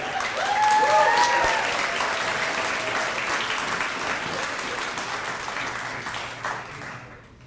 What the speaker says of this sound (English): Let's give another round of applause for our speakers and Dr.